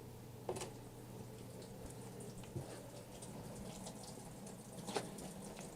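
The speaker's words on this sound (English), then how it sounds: "Why would that just start turning on by itself, though? That's a faucet, right?" A faucet that has turned on by itself in an old mansion runs with a steady, faint hiss of water, with a few soft knocks and drips over the flow.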